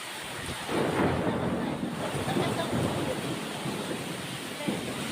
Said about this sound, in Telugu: చూసారా ఎంత పెద్ద వర్షం పడుతుందో